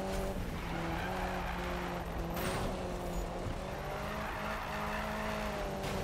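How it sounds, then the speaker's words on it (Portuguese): A Nissan Silvia drifts in the Need for Speed 2015 video game, engine revving steadily while tires squeal continuously through the slide, loud and sustained with no talk. "eu tenho que fazer um drift mais aberto"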